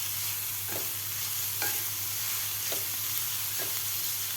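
Grated raw mango and onion sauté in a pan, a constant close sizzle broken by four evenly spaced spatula scrapes as the mixture is stirred.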